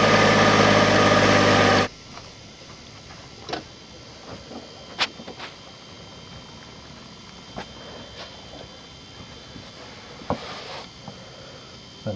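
A Chevy Trailblazer inline-six engine idles with a low, steady hum after a loud burst of noise at the start, with occasional faint clicks and ticks, during a fuel pressure test.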